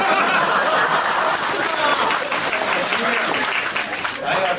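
Audience applause at a Deyun Society crosstalk show in Sanlitun, a dense, loud, sustained burst of clapping filling the whole stretch with a few chuckles mixed in.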